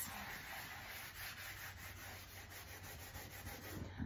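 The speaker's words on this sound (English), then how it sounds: "I'm gonna sand over it lightly with the sanding sponge" A sanding sponge rubs lightly over painted refrigerator metal. It makes a soft, steady scratchy rasp with faint back-and-forth strokes, quiet and close, with no talking.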